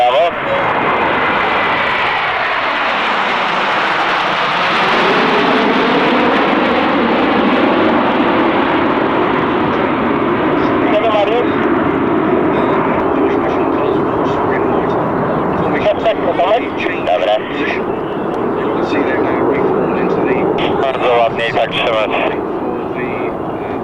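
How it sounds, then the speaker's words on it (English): A Polish jet trainer aircraft roars past at the 1995 Fairford airshow with a steady, loud engine rumble that shifts in pitch as it passes, while a voice talks over it. "But now running in from your right, the Polish aircraft."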